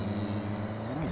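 A car engine in Forza Horizon revs in neutral with the clutch out, a steady droning hum that swells upward in pitch near the end, moderately quiet and unaccompanied.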